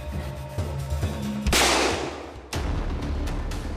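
In a TV reenactment of a Western film rehearsal on a New Mexico ranch, a prop revolver fires a single loud, sharp shot that rings out for about a second over a low background, with no speech.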